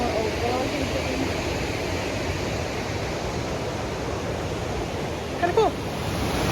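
Steady broadband rush of a river flowing through damp, mossy forest with old logs, constant and fairly loud throughout, with a brief faint chirp-like sound near the end.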